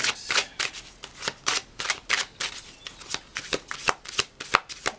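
Tarot cards being shuffled by hand in quick, rhythmic riffles, about a dozen crisp bursts of papery flutter, close and alone with no talking.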